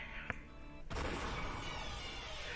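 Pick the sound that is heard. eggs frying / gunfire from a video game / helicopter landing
gunfire from a video game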